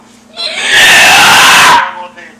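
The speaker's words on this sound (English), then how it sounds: "I can't even fathom how loud he's shrieking." A parrot lets out one loud, sustained shriek lasting about a second, very close and harsh, with faint talk before and after.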